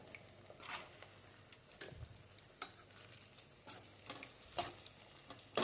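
Food frying in a pan on a low gas flame, giving a faint, soft sizzle broken by scattered crackles and light stirring scrapes, with no talking.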